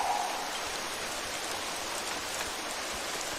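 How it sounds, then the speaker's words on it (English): Steady rain falls in the survival dinosaur game The Isle, an even, dense hiss of drops filling the scene without any voices. "It's actually raining again."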